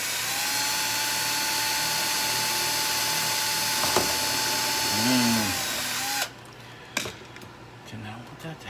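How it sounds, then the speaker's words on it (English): A handheld power drill whirs steadily while drilling holes into an RC drag car splitter and wings, then cuts off abruptly, followed by a few clicks and handling noises. "And I am using my drill still."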